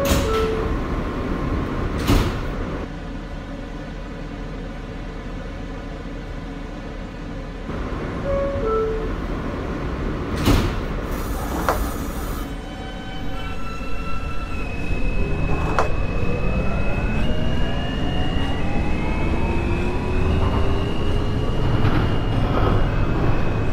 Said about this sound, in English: This is a Manhattan-bound E express train